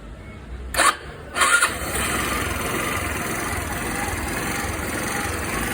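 An RKS Premium 125 motorcycle engine cranks twice in short bursts, then catches and settles into a steady idle that continues to the end.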